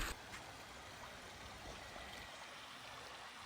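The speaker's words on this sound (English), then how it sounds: "this is our Pondless waterfall that we did for them in this corner in the front yard" Water spills steadily over a pondless waterfall built into a front-yard corner in Boise, Idaho, giving a soft, continuous rushing and trickling wash with no pauses, fairly quiet and close.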